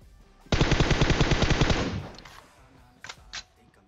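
A sustained, rapid burst of automatic gunfire in PUBG Mobile rattles for about a second and a half, followed by a couple of sharper single shots, loud and close.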